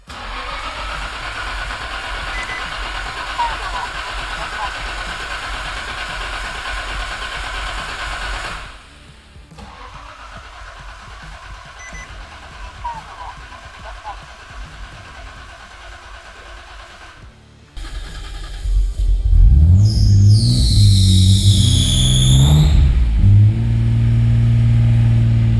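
A Nissan R32 GTR engine cranks over twice with a steady starter whir, then catches and fires up, settling into a loud, close rumbling idle with some revving.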